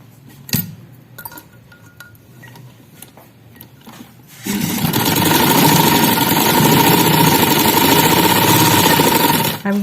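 Sewing machine stitching a child's shalwar, starting after a few seconds of light handling clicks and then running loud and steady at close range, alone.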